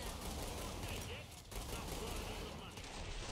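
Rapid video-game gunfire in Killing Floor 2 rattles almost nonstop as a dense, loud barrage, with one brief break midway before the shooting resumes.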